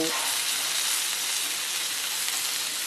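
Rawas fish frying in a pan, a loud, even, close hissing sizzle that holds steady throughout without stirring.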